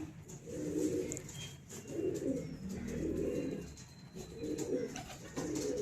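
Close, soft cooing from Teddy pigeons comes in a series of low rolling phrases separated by brief gaps, with a faint higher chirp at times and no talk.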